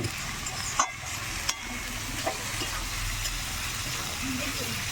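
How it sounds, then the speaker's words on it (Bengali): Onions fry and sizzle in a pan with occasional stirring scrapes, a steady, close crackle throughout. "পেঁয়াজ সুন্দর গলে গেছে এখন আমি দেবো আদা আর রসুন পেস্ট করা"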